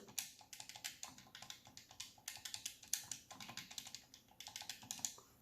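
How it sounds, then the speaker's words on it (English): Xbox Series X controller buttons pressed repeatedly, giving crisp, close plastic clicks in quick irregular runs, loud and dry against a quiet background. "the Xbox controller is a lot more clicky"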